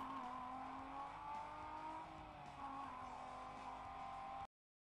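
Racing cars in Need for Speed Most Wanted, played on a Dell Latitude E6230 laptop: a continuous engine roar that rises and falls with revving and acceleration, loud and steady, ending abruptly.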